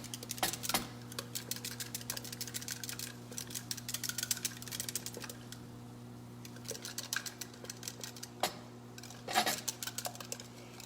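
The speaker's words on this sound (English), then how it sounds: "So I'm going to beat the eggs a little bit." Eggs are beaten in a bowl for a keto cheeseburger casserole, making a quick, light clinking and tapping of utensil against bowl in uneven bursts, fairly faint over a steady low hum.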